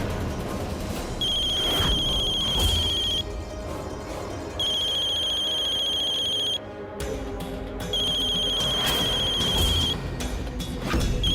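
A telephone rings in repeated electronic bursts, three clear trills separated by short pauses, with some indoor background noise beneath and no voices.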